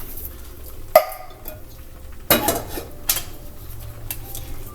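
Dry rice, one cup, poured into a pan of ground beef hot dish with canned corn, giving a sharp clatter and a later rattling rush against the pan, followed by a smaller knock, with no talking.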